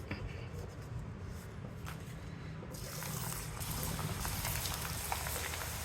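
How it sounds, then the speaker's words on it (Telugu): Small rice-flour chekkalu with grated bottle gourd and onion frying in hot oil, a dense crackling sizzle that swells louder and brighter partway through and then holds steady, close up, with no talking. "వేగినవి ఒక్కొక్కటి తిప్పుతూ వేయించుకోండి."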